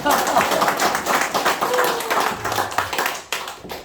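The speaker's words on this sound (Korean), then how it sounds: "우리 박조 회장님께 큰 박수 부탁드리겠습니다." An audience claps for a chairman at a crowd-funding startup event, uneven, pulsing applause from a moderate crowd that swells and fades, a voice briefly audible beneath it as it trails off.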